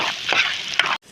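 Garlic chili powder being stirred into a hot frying pan, a steady close sizzle with a few scraping strokes, then a sudden cut to near silence at the end.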